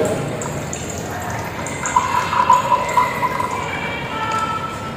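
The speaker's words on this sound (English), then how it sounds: "See how the water was flowing." Water flows from a homemade bottle water dispenser, released by a turned cap through a straw into a glass, giving a light trickling and filling sound with some ringing tone, close and moderately loud.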